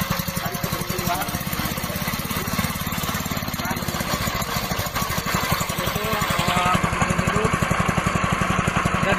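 A small engine drives a floating fish-feed pellet machine, running with a fast, steady knocking chug like a lawn mower or jackhammer, close and loud throughout, with a slight lift in intensity toward the end and a voice faintly underneath.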